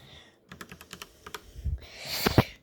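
A Syntec computer keyboard is typed on in a quick run of distinct, close keystrokes, followed by louder handling and clattering noises, with no talking.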